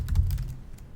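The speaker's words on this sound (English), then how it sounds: "So we start off by typing in our address." Keys clatter on a computer keyboard as an address is typed in, a close, quick run of keystrokes for about a second with no talking.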